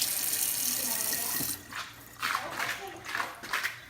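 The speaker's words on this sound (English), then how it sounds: "I'm gonna rinse this spoon" A kitchen water tap runs into a sink as a spoon is rinsed, giving a steady splashing hiss followed by several short, uneven splashes as the spoon passes under the stream.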